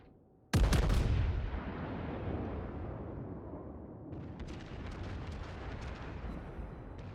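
A battleship main-gun salvo fires in the World of Warships game from the König Albert, one sudden loud boom followed by a long rumbling roar that slowly fades under steady noise.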